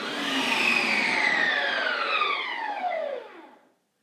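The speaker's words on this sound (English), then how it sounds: "Okay, so I'll turn the machine on. And we'll hit light ice cream." A Ninja Creami ice cream machine runs on a light ice cream setting, a loud whirring spin whose pitch sweeps steadily downward as it winds down before cutting off to silence.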